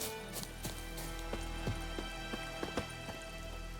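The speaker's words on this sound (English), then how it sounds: "Let it rain." Rain patters steadily in The Witcher 3: Wild Hunt, a soft constant wash with scattered closer drips and taps, quiet and even throughout with no voices.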